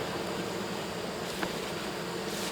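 Honeybees in a hive that was rescued from a wall, giving off a steady, dense, close buzzing hum that holds at an even level throughout with no talking.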